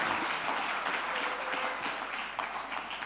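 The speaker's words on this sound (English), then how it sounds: "Can you please give me a round of applause?" Audience at a future-of-work dialogue event applauding in a steady, dense wash of clapping that holds evenly for a few seconds, moderately loud and heard from within the room.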